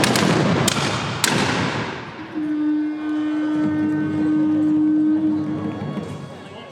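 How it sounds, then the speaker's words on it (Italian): Two sharp loud gunshot blasts ring out in quick succession at a historical reenactment in Lublin, Poland, followed by a lingering rumble and a sustained steady tone. "Occhio agli spari!"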